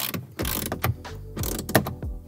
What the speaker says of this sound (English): Now just retighten your 10 mils and you're done.